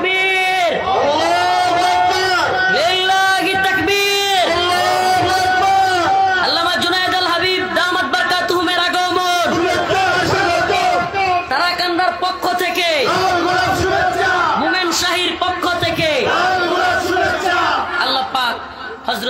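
Large crowd at a religious gathering roaring a loud takbir response in unison, sustained chanting voices filling the whole clip.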